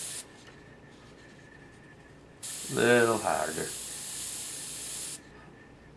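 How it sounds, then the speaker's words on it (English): Aerosol spray paint hisses onto paper in one steady burst of about three seconds, loud and close, with a brief spoken comment partway through. "We're just going to spray on the paper."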